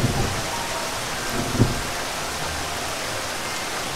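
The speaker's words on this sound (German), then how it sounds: "Das Gewitter wird immer stärker." A mountain thunderstorm in a children's cartoon, with steady rain hiss throughout and a low thunder rumble near the start.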